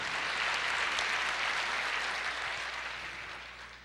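Church congregation applauding during a sermon, a dense, steady wash of clapping that holds strong and then slowly tapers over a few seconds, with no voices on top.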